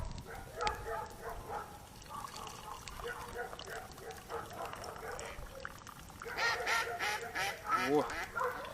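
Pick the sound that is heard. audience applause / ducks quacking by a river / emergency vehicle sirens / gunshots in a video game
ducks quacking by a river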